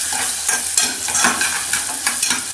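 Chopped onion sizzles and crackles in a hot pan, a loud close frying hiss broken by several stirring scrapes and clatters.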